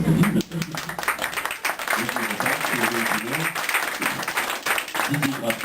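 An audience at a French fantasy-art event applauds doll artists, giving a steady wash of clapping from many hands with voices talking over it.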